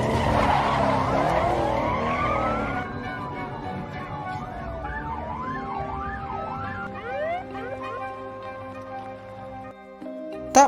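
A car in a police chase, tyres skidding loudly at first, then wailing emergency sirens rising and falling in fast sweeps, close and intense, ending with a sharp bang.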